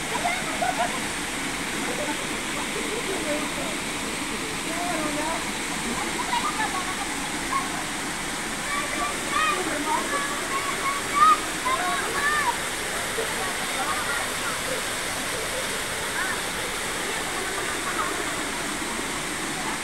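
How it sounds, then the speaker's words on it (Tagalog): Tagtugonan Falls in Barangay Gupitan, Kapalong, Davao del Norte, a steady broadband roar of falling water and splashing that stays even and continuous throughout, with a voice talking faintly underneath at times. "Ito ang tinatawag nilang Tagtagunan Falls, Barangay Gupitan, Kapalong Davao del Norte guys."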